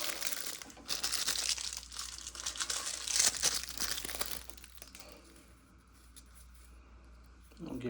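Thin Teflon tape is handled and wrapped around a rain shower head fitting, giving busy close crinkling and tearing rustles that fade toward the end before a brief return.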